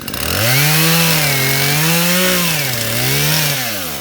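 A chainsaw clearing hedges in a yard runs loud and close, its engine revving up and down in smooth swells with no talk.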